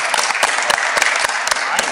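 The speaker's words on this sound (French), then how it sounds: "donc Nassim, qu'on peut applaudir aussi" Close, lively applause from an audience for Nassim, who was chosen by the public, with sharp individual claps standing out over a steady patter of many hands.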